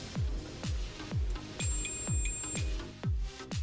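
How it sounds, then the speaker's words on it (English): A multimeter's continuity beep while connections inside a GE microwave, model PVM2188SJC01, are tested: a steady electronic tone held for about a second over a background of repeated low thuds. "So any connections that are still intact will make a sound like this."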